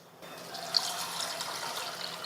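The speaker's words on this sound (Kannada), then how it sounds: "ಈಗ ನೀರು ಹಾಕಿ ಒಂದೆರಡು ಸತಿ ತೊಳಿತೀನಿ ರೀ." Water is poured over lentils to wash them in a home kitchen, a soft close splashing and running-liquid sound, fairly faint and steady over a couple of seconds, with no talking.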